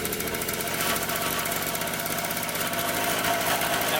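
A Honda Elsinore 50cc motorcycle engine runs with a fast, rattling, buzzy beat, holding a fairly steady idle close by and loud throughout.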